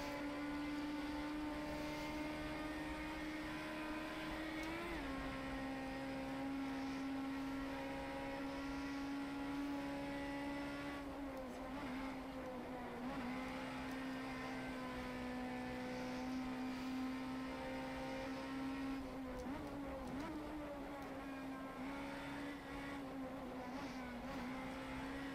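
Datsun Bluebird SSS race car at Ibarra circuit, its engine droning steadily and close for the whole lap, pitch rising and dipping with gear changes and corners on a final-lap push.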